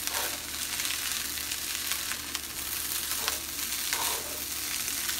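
Eggs and rice being stirred and fried in a pan for homestyle hibachi, a loud, steady close sizzle with scraping stirs throughout and no voices.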